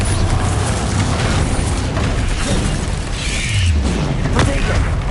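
A Bombarda spell explosion in the Hogwarts Legacy video game, heard as a loud, dense boom within a constant roar of combat effects.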